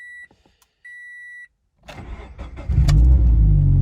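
A car at a salvage auction lot cranks and fires up after two short electronic chimes, the engine catching and settling into a loud, steady idle close by.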